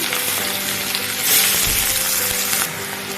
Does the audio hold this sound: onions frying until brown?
yes